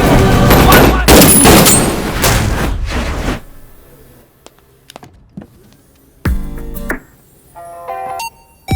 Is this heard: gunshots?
yes